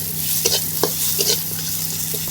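Dried mango pieces frying in a pan produce a loud, close sizzle with a few quick stirring scrapes and a sharp clink at the end.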